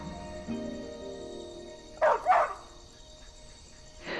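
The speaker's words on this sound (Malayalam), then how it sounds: "ഡിമാ കമ്പനിയുടെ പരസ്യത്തിന്റെ പോസ്റ്ററിന് മുന്നിൽ നിന്നുകൊണ്ട് പട്ടി കുരയ്ക്കുന്നതായി കാണിക്കുന്ന ഒരു സീൻ" A dog barks in front of an advertisement poster in a comedic film scene, two sharp close barks in quick succession after a quieter stretch of background sound.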